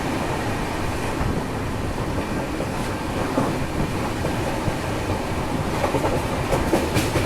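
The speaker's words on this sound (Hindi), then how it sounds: "बनारस से निकलते ही 110 की रफ्तार फ्लैट, गजब की रफ्तार भाई, गरीब रथ" A Garib Rath express train runs flat out at 110 km/h after leaving Banaras, with a steady, loud rolling rumble and rhythmic clickety-clack of wheels over rail joints heard from on board. No voices are heard.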